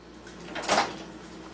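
A door pulled open by a shoulder strap, giving one soft muffled swish that swells and fades within a second over a quiet room.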